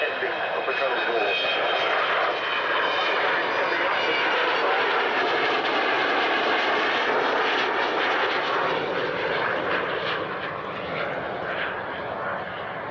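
Loud, sustained roar of four jet engines, two per side sharing a single intake, with a high whistling tone riding on top, steady throughout and close by.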